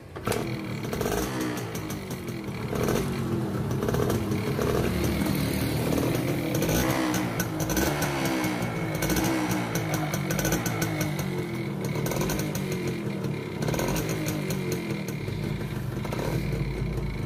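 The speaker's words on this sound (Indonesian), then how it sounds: "kemudian kita coba cek hidupkan mesin." A Suzuki FizR motorcycle engine runs continuously close by with a harsh, buzzing, chainsaw-like rattle, holding steady for the whole stretch with small surges.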